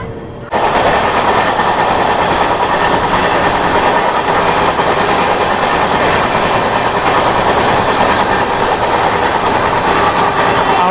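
A Howrah Duronto express train runs steadily on its journey through Jharkhand, its loud continuous rumble and wheel clatter filling the whole stretch after a brief quiet start.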